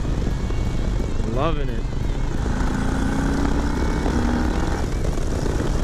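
Harley-Davidson 2020 Low Rider S motorcycle engine droning steadily on a test ride, mixed with loud wind rush throughout, while a rider talks briefly over it.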